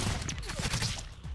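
A short flurry of overlapping gunshots and bullet effects from the chaotic video game ROUNDS, brisk and steady across the brief moment.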